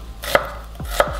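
Two crisp knife chops dicing onion on a cutting board, spaced apart, each a sharp click followed by a dull thud, close and fairly loud.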